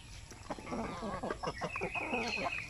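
Chickens cluck in short, overlapping bursts close by, with a few higher calls and no talking.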